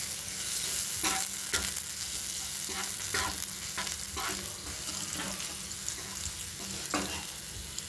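Chopped onion hits hot spiced oil and fries, giving a steady close sizzle with occasional stirring scrapes and clinks throughout, and no talking.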